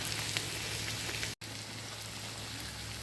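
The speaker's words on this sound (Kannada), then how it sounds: "ಈ ಥರ ಫ್ರೈ ಮಾಡಿ, ಸ್ವಲ್ಪ ಫ್ರೈ ಮಾಡಿ ತೆಗೆದ್ರೆ ಸಾಕು" Ari pathiri sizzling in hot oil in a pan, a steady, dense crackle with a brief cut near the middle, close and moderately loud, with no voices.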